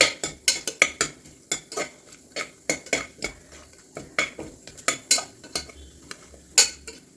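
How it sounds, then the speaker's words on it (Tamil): Cashew nuts stirred into a cooking pan with cardamom and fennel, a metal spoon scraping and clinking against the pan in a steady series of sharp, close taps with a faint sizzle beneath. "முந்திரி பருப்பும் சேர்த்துக்குவோம் சேர்த்துட்டு அப்படி லேசாக கலந்து விட்டுட்டு"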